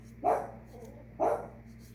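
A dog indoors at home barks twice, about a second apart, each a short, fairly loud bark standing out over a quiet background hum with no talking.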